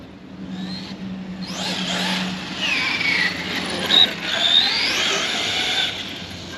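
A Traxxas X-Maxx electric RC truck whirs and whines as it runs across a park, its motor pitch rising and falling under steady throttle, fairly close and loud.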